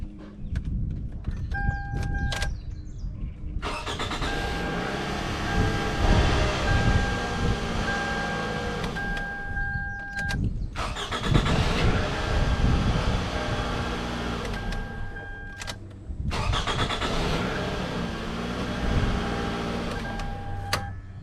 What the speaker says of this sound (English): So now I'm going to try start up the vehicle.